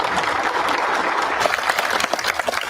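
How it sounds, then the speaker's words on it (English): Steady applause and cheering from a crowd of fellow troopers as a 27-year-old police officer leaves the hospital, dense clapping sustained throughout. "Look at the applause, fellow troopers saluting and cheering as 27-year-old Thomas Messia left the hospital"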